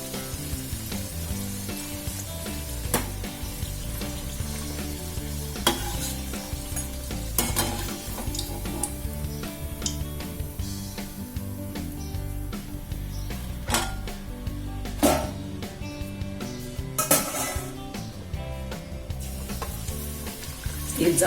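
Puris deep-frying in hot oil on a lowered gas flame, a dense continuous bubbling sizzle with periodic clinks and scrapes of a slotted spoon, with no talking.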